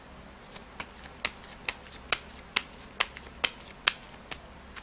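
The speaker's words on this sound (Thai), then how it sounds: "เดี๋ยวจะมาเสี่ยงไพ่ให้เพิ่มเติม" Fortune-telling cards are shuffled and drawn, giving a series of sharp, close flicks and snaps at a fairly regular pace, each one brief and distinct over a quiet background.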